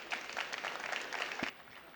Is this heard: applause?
yes